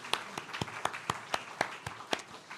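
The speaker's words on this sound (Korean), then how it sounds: "박수로 환영하겠습니다." Church congregation gives a small, scattered round of applause during a Sunday worship service, a light, modest patter with distinct individual claps popping out in an uneven rhythm.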